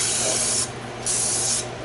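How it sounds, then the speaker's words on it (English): Cooking spray hissing from a nearly empty can onto a cake pan, two short breathy bursts separated by a brief pause, close and fairly soft, with no voices. "we're going to spray our pan"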